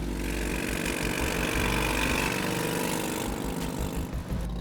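A car engine rumbles steadily with a deep, throaty exhaust note, loud and close, holding a constant drone throughout.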